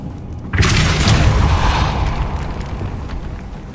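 A Depulso force spell cast in the Harry Potter game Hogwarts Legacy, heard as one loud, booming blast that bursts in suddenly and leaves a long, rumbling wash slowly trailing off.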